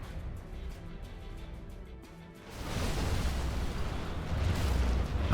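Scud missile explosion in a war video game: a sudden broad roaring blast that swells and sustains as a loud rumbling burst after a quieter stretch of game ambience.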